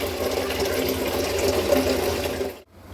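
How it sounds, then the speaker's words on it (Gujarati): Sliced potatoes for wafers are washed in water, giving a steady, close sloshing and running-water sound that cuts off abruptly near the end. "4 થી 5 પાણી આપણે સાફ પાણી એકદમ સરસ રીતે ધોઈ નાખશું"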